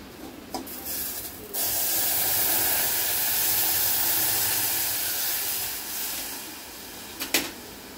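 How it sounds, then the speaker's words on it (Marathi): Milk poured into a hot pan of roasted vermicelli for shevayachi kheer sets off a loud, steady hiss and sizzle lasting several seconds, with a few sharp clinks near the start and the end. "दूध ओतूया"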